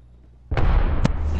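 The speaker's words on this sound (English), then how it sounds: "They're all going with grenade." A sudden grenade blast in Apex Legends bursts in after a quiet moment, then a second sharp crack follows with a rumbling tail, loud and close.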